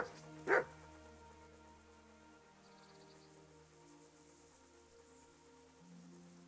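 A dog in the medieval video game Kingdom Come: Deliverance gives a single short bark near the start, then falls silent over a quiet, sustained musical background.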